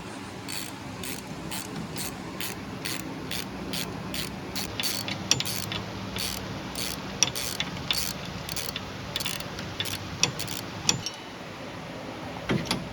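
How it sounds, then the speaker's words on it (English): A ratchet works loose the 10mm brake caliper bolts on an Arctic Cat Wildcat 1000, giving a long run of rapid, evenly spaced clicks, close and steady, over a constant background hum. "10mm bolts, one down here and then one going to be located right here. Take them out and we can remove our caliper."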